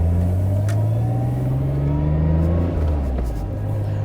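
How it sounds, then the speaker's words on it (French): A 1991 Nissan Skyline R32 GT-R, right-hand drive, heard from the passenger seat on a drive, gives a loud, steady engine drone whose pitch slowly climbs and then eases. "c'est parti, on va faire un petit tour avec la R32"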